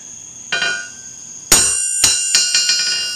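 Hammer striking a steel anvil on a stand, a few sharp ringing metallic clangs followed by a quick series of lighter rebounding taps as it bounces, each with a bright lingering ring.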